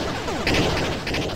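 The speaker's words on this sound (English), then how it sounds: "Leave my trailer alone, you evil missiles!" Missiles strike targets in the arcade game Missile Command, a quick burst of crackling, rattling explosion hits layered over one another, loud and close for about a second and a half.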